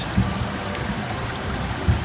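Rain falls steadily over a flooded rice paddy in Sundanese farmland during eel fishing, an even close hiss of drops with a couple of soft thumps and no voices.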